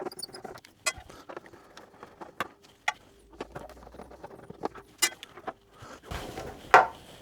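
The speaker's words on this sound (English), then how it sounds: "The T27 Torx bit, we're taking these two bolts out of the screen" A T27 Torx bit backs two bolts out of a screen on a Norden 901 motorcycle's front tower, sped up: a quiet run of scattered sharp clicks, taps and rattles with brief louder knocks near the end.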